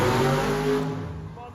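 Monster truck engine at a fairground monster truck show in Hamburg, New York, a loud sustained roar that wavers and eases off toward the end, with people talking over it.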